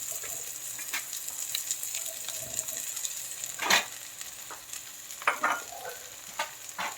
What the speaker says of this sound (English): Now we throw in the green onion sliced.